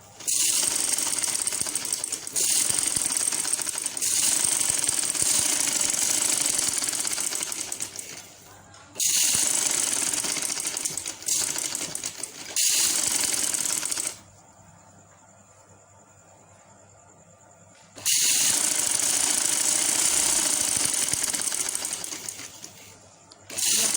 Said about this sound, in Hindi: सिलाई लगाएंगे।